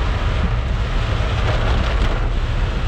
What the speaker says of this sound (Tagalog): Malakas na ulan at hangin pa rin ang nararanasan sa iba pang bahagi ng Bataan